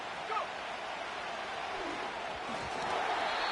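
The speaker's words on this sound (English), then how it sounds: "This crowd into it now as we get to 3rd down." A football stadium crowd roars steadily ahead of a third-down play, a continuous broad rumble of voices and noise that swells slightly toward the end.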